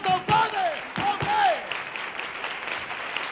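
A studio audience on a 1997 Spanish television comedy show applauds in a short burst of dense clapping that fades, with someone talking over it.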